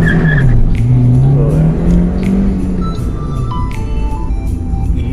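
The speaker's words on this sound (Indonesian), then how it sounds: "Gigi satunya gampang banget ya buat nyicit ya." A Honda CR-Z Mugen RZ in first gear squeals its tires in a loud, wavering screech over the close roar of the engine.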